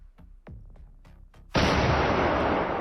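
Bombs dropped in a video game, several sharp thumping impacts in quick succession followed by a loud, sustained roaring blast that holds to the end.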